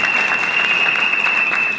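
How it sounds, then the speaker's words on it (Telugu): Audience applause for a woman at a Vestige business meeting, a dense, steady burst of many hands clapping close by, with a constant thin whine running under it for its whole length. "సో మేడంకి ఒకసారి give the big round of applause."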